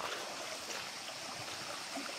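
A river flowing through a forest, its steady broadband rush and trickle continuing evenly and fairly close throughout, with no voices over it.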